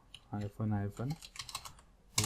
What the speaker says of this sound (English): first we'll check by typing command terraform